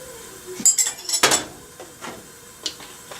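A plate and spoon handled while making oatmeal, a cluster of sharp ceramic and metal clinks and knocks close by, followed by a few softer taps, no speech.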